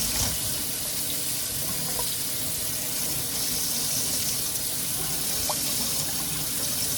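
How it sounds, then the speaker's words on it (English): Cold tap water runs steadily into a sink over boiled eggs in a strainer, a constant hissing gush with faint splashing. "I'm going to run some cold water"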